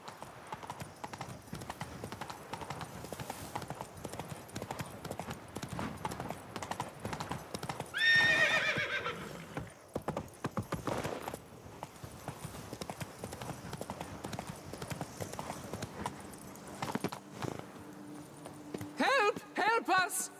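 Horse hooves clip-clop at a steady gallop in The Witcher 3 video game, with a loud neigh partway through, all under ongoing game voices and background music.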